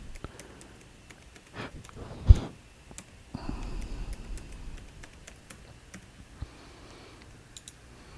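A password is typed on a computer keyboard while a remote CCTV camera is added to a DVR, with scattered, irregular keystroke clicks and one heavier thump, quiet and close.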